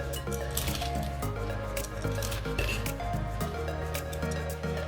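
A Caesar salad with Parmesan is tossed in a bowl, giving soft, wet squishing and light clinks that run under steady background music.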